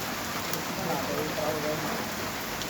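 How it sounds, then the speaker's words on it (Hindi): Steady hiss of pre-monsoon rain falling on waterlogged streets, a dense, continuous patter that holds even throughout with no voices over it. "मानसून से पहले की ये बारिश है"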